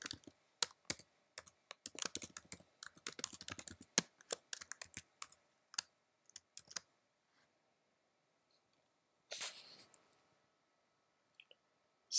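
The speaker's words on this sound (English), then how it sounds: "I'll type the same thing we typed in the interpreter" Someone types on a computer keyboard while editing in Vim: quick bursts of close, crisp key clicks, then a long pause, another short flurry and a final tap.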